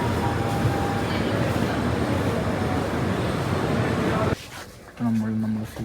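A train pulls into a station at Shoranur in Kerala with a loud, steady broadband rumble that cuts off abruptly, followed by a brief voice.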